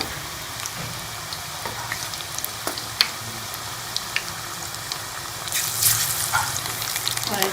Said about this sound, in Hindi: अब हम इसमें ये प्याज के रिंगर जो है ये फ्राई कर लेंगे।